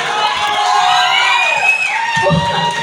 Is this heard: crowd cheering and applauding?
yes